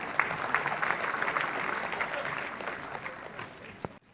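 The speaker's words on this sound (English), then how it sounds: "a big applause to Yang Berhormat Datuk Seri" A conference crowd at the Malaysia Higher Education Forum 2017 claps warmly for an honoured guest, a dense burst of applause that starts strong, gradually thins and tails off near the end.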